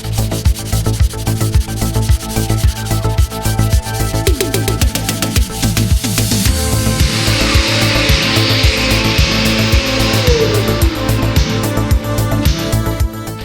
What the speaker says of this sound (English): I just love hand sanding.